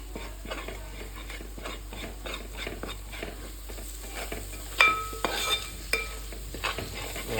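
Spice powders — pepper, coriander, black pepper and turmeric — stirred into hot oil in a pan for viral fish curry, a steady scraping stir over soft sizzling with a few sharper utensil knocks near the end.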